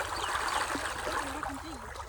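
Rushing stream water with a steady gurgling wash, while a voice talks over it near the microphone.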